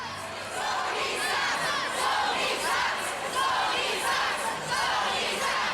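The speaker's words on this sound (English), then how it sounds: "the voices of hundreds of Michael Jackson fans chanting "Sony sucks" during a protest in 2002" Hundreds of Michael Jackson fans chant "Sony sucks" at a 2002 protest, a dense, loud crowd of voices in rhythmic repeated shouts, sustained throughout with a roaring open-air wash.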